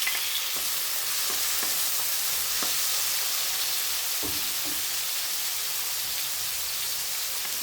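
Chopped tomatoes sautéing in a hot pan with sardines for a Filipino ginisang sardinas with papaya and malunggay leaves, a steady close sizzle with occasional soft stirring clicks and scrapes, no voices.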